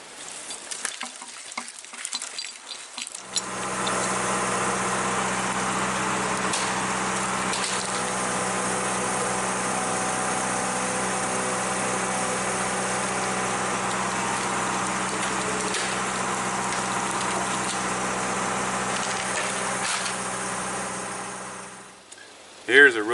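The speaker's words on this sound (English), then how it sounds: "I'm just going to hook the winch cable on and give it a tug and pull it down." A winch engine drones steadily for nearly twenty seconds while pulling down an old, rotten deer stand, with a low mechanical hum and grinding, ratcheting texture. It starts after a few seconds of quieter activity and stops near the end.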